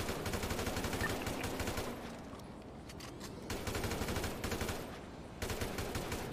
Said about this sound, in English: they're shooting at me, but they can't reach